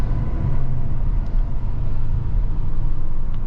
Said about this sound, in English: maybe we can hear a little bit more of that V8 music